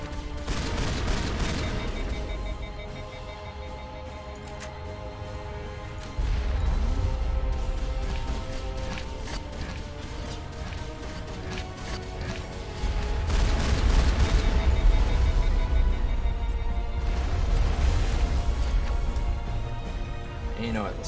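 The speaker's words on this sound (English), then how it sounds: "I'm gonna hit him with my explosive shotgun." Explosive shotgun blasts in Mass Effect Legendary Edition's battle for the Citadel, heavy booming shots and crashes recurring every few seconds over a continuous din of combat, with a voice speaking over the action.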